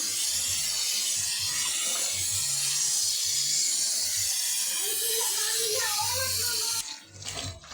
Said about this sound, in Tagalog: Lagyan na natin ng tubig para malambot.